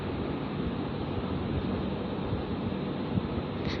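Finely chopped ginger and garlic frying in hot oil for a spicy vegetable pasta, giving a steady, dense sizzle that runs evenly throughout with no voices.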